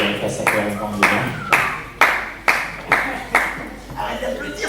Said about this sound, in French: Arrête d'applaudir, c'était nul.